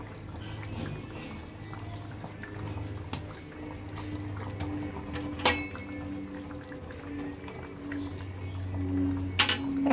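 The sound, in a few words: rohu fish pieces added into boiling curry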